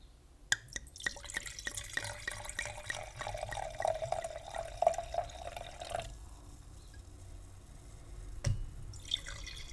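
Liquid is poured close up, with a trickling, dripping stream that runs steadily for about six seconds before trailing off into a few quiet drips and small knocks.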